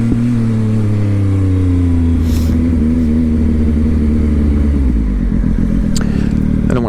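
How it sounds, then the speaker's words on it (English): A Triumph Speed Triple S motorcycle with an SC Project exhaust, a loud close engine drone shifting in pitch as it accelerates and changes gear, with brief sharp clatters near the end. "I don't want to scare that person too much with a bunch of engine noise"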